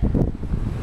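Gusty wind on a windy day while flying a kite, a steady low rumbling buffet against the microphone, loud and continuous, with no voices.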